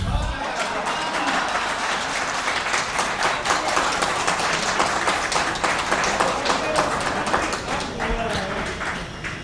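An audience at a Panchayat Aaj Tak political forum ahead of the Bihar polls claps loudly and continuously, a dense, sustained burst of many hands that fills the room with voices mixed in.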